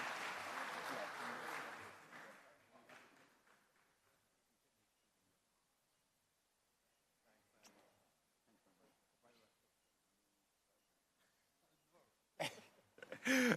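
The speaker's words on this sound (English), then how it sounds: "A round of applause for them all." Conference audience applauds panelists leaving the stage, a burst of clapping that fades out within a few seconds, then near silence with coughs and shuffling before a voice returns at the end.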